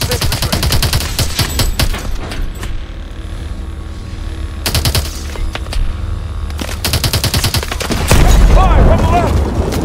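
Missile launches and rapid gunfire in Call of Duty: Advanced Warfare arrive as loud, dense bursts of automatic fire with booming impacts, plus a heavier blast near the end.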